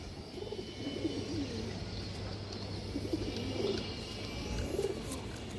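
A China Khaki pigeon of an old bloodline coos in a series of soft, low, repeated calls spaced a second or so apart, close by over a steady background hum, with no talking.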